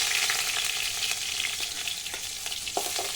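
Garlic and ginger fry in coconut oil in a pan, a strong constant sizzle and crackle with light stirring clatter throughout.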